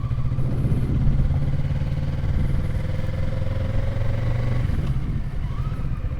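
Motorcycle engine running steadily while riding slowly around a parking lot, a continuous mid-pitched drone with a slight shift near the end, recorded close on a helmet-mounted camera.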